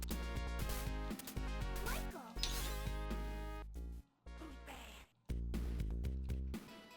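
Cat enemies in Michael Jackson's Moonwalker on the Sega Genesis give short synthesized meows over dense, looping game music, with brief breaks in the soundtrack.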